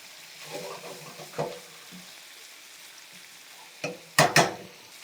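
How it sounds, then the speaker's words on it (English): Swedish meatballs fry and brown in a pan with a soft, steady sizzle, broken by a few sharp clinks and scrapes of a utensil turning them. "we're just going to roll them around until they're brown on all sides"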